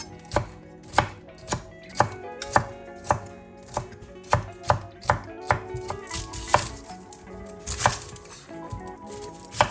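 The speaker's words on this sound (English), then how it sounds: "To prep the peppers, I'm gonna go ahead and chop off the top." A knife chops the tops off peppers on a cutting board, loud sharp strikes in a steady rhythm, about a dozen close cuts over continuous light background music, no talk.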